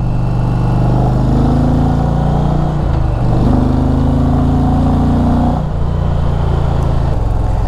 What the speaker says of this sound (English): I love the sound this bike makes.